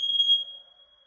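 Smoke alarm sounding a single piercing high-pitched beep during a test indoors, loud at first then decaying quickly into silence.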